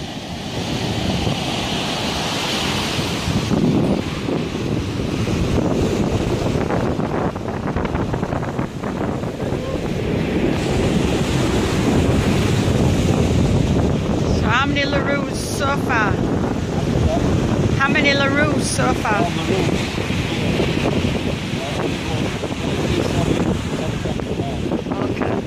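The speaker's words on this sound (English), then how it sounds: "Bit misty. Bit wild waves today." Rough, misty surf and gusting wind on the coast at Hoi An, Vietnam, roar in a steady, dense wash of breaking waves and wind buffeting the microphone throughout, with faint voices briefly heard.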